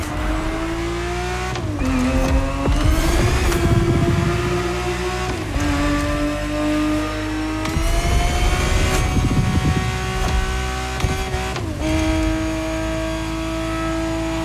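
Ferrari 365 GTB4 engine racing in The Crew Motorfest, a loud, steady engine drone that rises and falls through repeated gear shifts, with revving climbs and brief dips between them, heard alone without talk.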